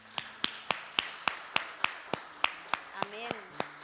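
A church congregation's welcome applause arrives as sparse, evenly spaced claps, about a dozen sharp slaps roughly a third of a second apart, fairly faint, with a voice briefly heard near the end.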